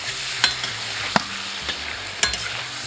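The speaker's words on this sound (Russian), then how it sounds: "Далее в него отправляю мясо. Которое мне нужно обжарить." Meat fries in oil in a kazan, giving a steady close sizzle punctuated by a few sharp scrapes and knocks as it is stirred.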